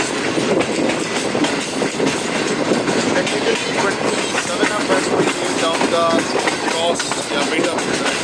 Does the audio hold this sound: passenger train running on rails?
yes